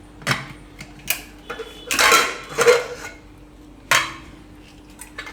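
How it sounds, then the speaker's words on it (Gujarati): A home kitchen pressure cooker being opened after cooling: a few sharp metallic clanks and clicks of the lid, with a brief hiss of released steam in between, close and loud. "તો કુકર આપણે હવે ખોલીને જોઈ લેવું."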